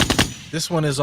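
A gunshot sound effect fired from a soundboard on a Knicks watch-along podcast rings out in a few sharp, loud bursts at the start, followed by someone talking.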